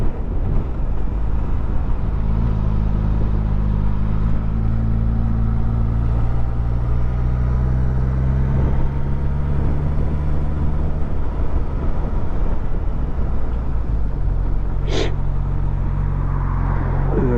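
A Suzuki GSX S1000 GT motorcycle out riding, heard as a loud, constant engine drone with steady low tones that shift in pitch as the engine speed changes, over continuous wind and road noise. A brief high whistle stands out near the end.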